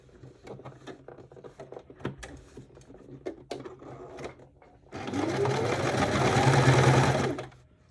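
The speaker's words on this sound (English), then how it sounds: "And I'll sew it together." A sewing machine sewing a seam on a pair of pants, with a loud steady whirring run of a few seconds after some soft handling knocks.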